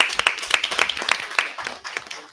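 A small audience at a village board of trustees meeting claps for code enforcement staff, a brief, uneven burst of handclaps from a modest crowd that thins out toward the end.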